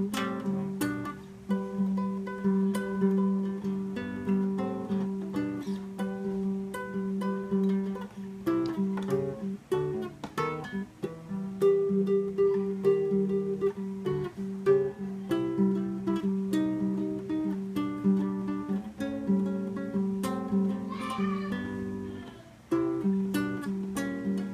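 Acoustic guitar playing a song intro, fingerpicked notes ringing over a steady low drone, continuous and close with no voice.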